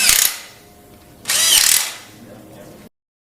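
A ratchet makes two short, close bursts of clicking while tightening the two 10mm bolts on the lower crank cover of a 1990s Volvo 850/70-series engine.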